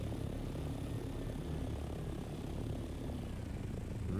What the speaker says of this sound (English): And no shooting at the helicopter.